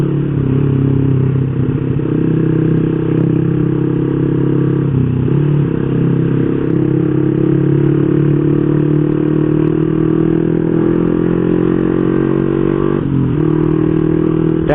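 A Honda Revo Standard motorcycle fitted with a BRT Type S1 camshaft runs on the road, its engine droning loud and close with steady low tones and a couple of brief dips and rises in revs, with no talk.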